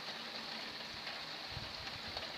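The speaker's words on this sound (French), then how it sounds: "Oh, comment il pleut fort." Steady rain falls in Lœuilly, France, a soft, even hiss with scattered faint patters, fairly quiet and continuous.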